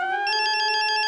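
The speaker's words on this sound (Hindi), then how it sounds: "अंजलि का वीडियो कॉल।" A phone rings with a ringtone for an incoming video call, a loud bright electronic melody of bell-like tones pulsing in quick, even repetition.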